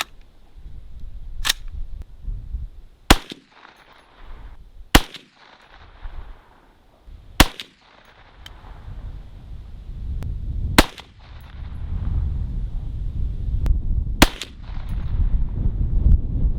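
Rifle shots from a CMMG Resolute AR-15 chambered in 350 Legend, firing Winchester 180-grain Power Point rounds outdoors in wind: several loud, sharp single cracks spaced a few seconds apart over a rumbling wind background.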